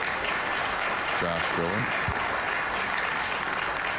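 Audience applause at a US Open pool quarterfinal match, a short burst of clapping from a modest crowd in the arena while a commentator speaks over it.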